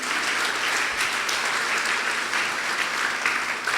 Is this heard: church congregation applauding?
yes